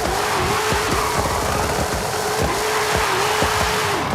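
Camaro on a drag tune in Forza Horizon 5 spins its tires to heat them: a loud, steady engine drone with continuous tire squeal and a run of sharp exhaust pops throughout, no talking.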